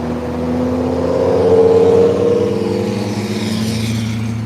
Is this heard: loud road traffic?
yes